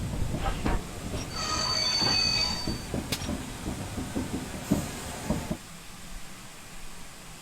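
In Train Simulator 2015, a GWR Small Prairie train on the Western Lines of Scotland rumbles and clatters with a high metallic squeal of wheels as it brakes, then the noise drops away to a quiet hum.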